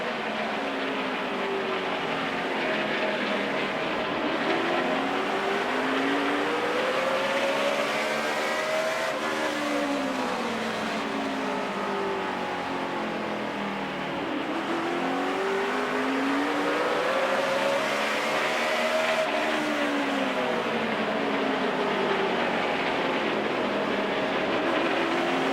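A NASCAR Sprint Cup race car's V8 engine heard from inside the cockpit during a 2008 race at Martinsville, revving up to about 8,700 RPM and dropping back repeatedly in steady cycles, loud and continuous with no talk.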